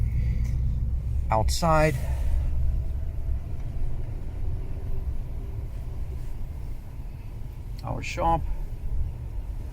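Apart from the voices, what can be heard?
1987 Chrysler Fifth Avenue driving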